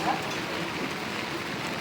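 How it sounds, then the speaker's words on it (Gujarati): Rain falls outdoors at a midday food-distribution gathering, producing a steady, dense hiss of drops that stays even throughout the short stretch, with no clear voices. "વરસાદ છે"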